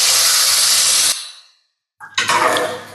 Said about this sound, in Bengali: ফোড়নটা দিয়ে দিলাম।